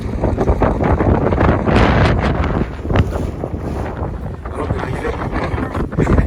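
Steady roar of wind buffeting a boat on a windy, choppy outing off Mauritius, loud and continuous with thumps and gusts throughout, voices faintly mixed in.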